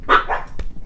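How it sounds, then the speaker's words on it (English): Pet dogs bark at a package just delivered by the mail carrier, giving two or three sharp, close barks in under a second with no talk. "my dogs must think it's treats for them. Apologies for the puppies."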